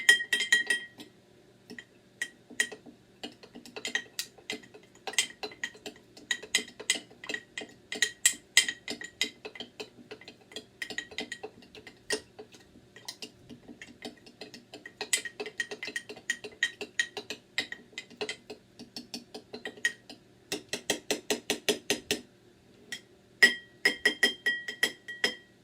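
Chili powder stirred into isopropyl alcohol in a glass container for homemade pepper spray gives repeated light clinks and scrapes against the glass, steady through most of the stretch with a quicker burst of rapid clinking near the end.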